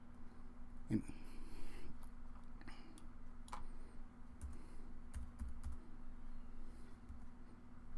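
Keys tapped on a computer keyboard to enter a value during software work, a few scattered clicks over a steady low hum, fairly quiet and close.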